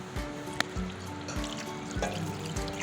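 Water poured from a glass into a pressure cooker holding marinated beef, a steady close trickle with a few soft thuds of handling.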